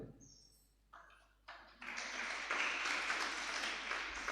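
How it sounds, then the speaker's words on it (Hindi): A lecture audience breaks into clapping that starts after a few scattered claps and swells into sustained, fairly distant applause. "ताली क्यों बजाई?"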